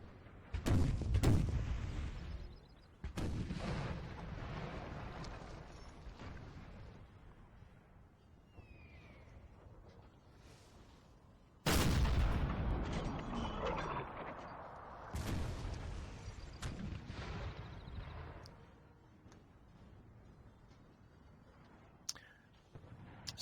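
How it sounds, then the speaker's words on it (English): Artillery fire rages across a Napoleonic battlefield in Napoleon Total War at Waterloo, a series of heavy cannon booms spaced several seconds apart, each followed by rumbling decay, with quieter battle noise and faint murmuring between shots. "all across the front, still the artillery fire rages"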